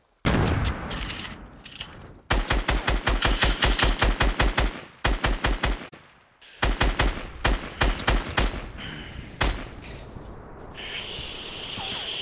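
Rapid bursts of video game gunfire hammer at a wall in loud, dense volleys. Several runs of fast repeated shots are broken by short pauses, and the firing thins toward the end as ambient game noise remains.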